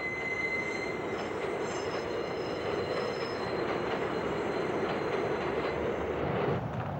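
Subway train passing close by with loud, sustained metallic wheel squeal over a steady rumble of rolling cars, continuous for the whole stretch with no voices.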